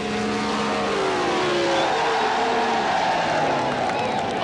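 A Ford six-cylinder roadster and a dragster launch and race down a drag strip at an NHRA meet, a loud continuous engine roar with rising and falling pitch sweeps, heard from the track side with no talk.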